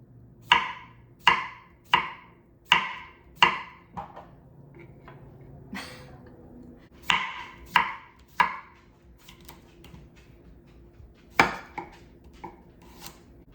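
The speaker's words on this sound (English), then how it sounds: "So I'm gonna chop this up and put it in our little container." A knife chops cucumber on a cutting board in a home kitchen: a run of about eight crisp, evenly spaced thuds, then scattered lighter cuts and taps after a short pause, close and clear with no talk.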